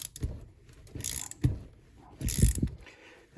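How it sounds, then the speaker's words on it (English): A 17mm wrench tightens a brake line fitting, making repeated short metallic ratcheting clicks and scrapes in irregular bursts, close and quiet, with no talk. "Now you're going to use a 17mm wrench to tighten this"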